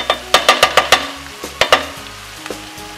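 Beans for gallo pinto sauté and dry out in a pan, a run of sharp utensil scrapes and taps against the pan over a low background sizzle, close and fairly loud with no talking.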